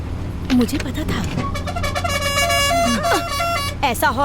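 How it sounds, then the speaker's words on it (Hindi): A vehicle horn honks in sustained tonal blasts over steady traffic and engine noise, with people talking loudly around it. "ऐसा हॉर्न बजा के हमें मार ही डालेगा क्या?"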